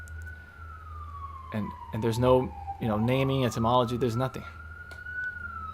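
An emergency vehicle siren wails steadily in the background, gliding slowly in pitch as it holds on, while someone talks over it at close range.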